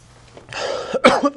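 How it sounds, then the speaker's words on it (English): A person coughs a few times up close, short harsh bursts coming one after another with no talking. "coughing"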